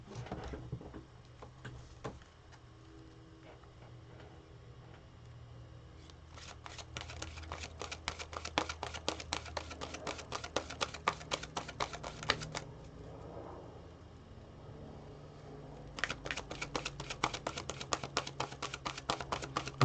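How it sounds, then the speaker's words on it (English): Tarot cards are shuffled by hand in a quick riffle-like patter. The shuffling comes in two close bursts with a brief lull between them, and a faint voice sits underneath. "I'm just shuffling up, Yvette, okay?"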